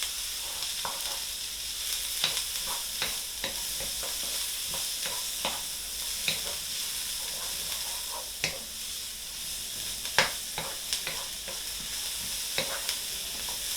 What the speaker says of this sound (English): Now you're going to fry the spring greens.